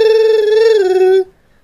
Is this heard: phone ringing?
yes